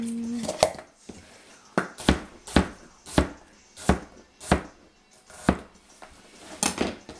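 Red onion being chopped on a kitchen board: a run of about a dozen sharp, evenly spaced knife thunks, close and loud, with short quiet gaps between them and no talking.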